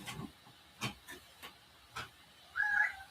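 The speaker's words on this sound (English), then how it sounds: "Kitty's meowing. Oh, he's scratching at the door." A cat meows faintly and scratches at a door indoors, with soft tapping bursts and a higher meow near the end, fairly quiet and without talk.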